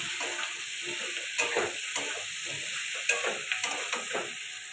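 Potato, fish and drumstick curry being stir-fried in a pan, a continuous sizzle with a steady hiss and irregular scraping taps of a spatula against the pan, no voices.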